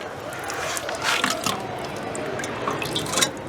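Water running and dripping while a chicken is washed for a blue chicken recipe, a steady splashy wash of liquid with a few louder splatters throughout.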